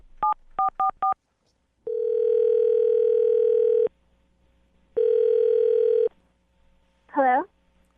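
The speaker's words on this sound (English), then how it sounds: "I'm going to call the phone number right now." Telephone keypad tones beep in a quick run of four, then a steady dial or ringback tone sounds twice in long bursts, followed by a brief warbling tone as a phone number is called.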